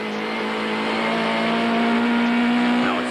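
A 1998 Bankfin touring car runs flat out down the straight at Killarney, its engine holding a steady loud drone at full throttle, close and continuous for a few seconds without any voices.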